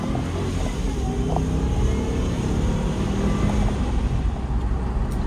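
A 2006 supercharged Range Rover pulls hard under acceleration, with a steady, loud engine roar and heavy road and wind noise from inside the cabin that holds evenly throughout, with no talk.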